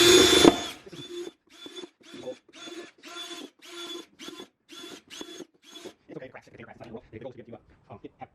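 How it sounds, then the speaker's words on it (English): A power drill whirs in a series of short bursts, each a second or so, drilling small holes in a container, stopping and starting steadily, followed by quieter clattering and handling noises. "my drill here that I was drilling small holes with"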